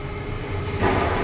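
A train rolls along a railway track near a construction site, a steady low rumble that swells slightly louder toward the end, heard without any talk.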